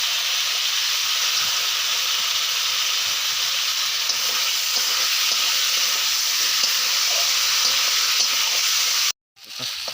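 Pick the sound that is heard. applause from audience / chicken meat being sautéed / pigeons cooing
chicken meat being sautéed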